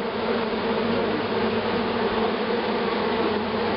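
Honeybees fanning and marching at the entrance of a trap-out hive scented with lemongrass oil, a dense, steady close buzz of many wings droning continuously without pause.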